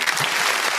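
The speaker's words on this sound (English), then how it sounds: "I was hitting applause" Canned applause effect from a host's soundboard on a talk show, a short dense burst of clapping and crowd noise, loud and steady with no talk over it.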